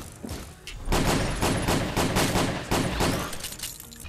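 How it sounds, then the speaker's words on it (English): Shotgun blasts in a VR shooter game played on Oculus Quest fire in a rapid, loud series of booming shots that overlap into a dense barrage, with a few brief gaps. "Another shotgun blast to the back."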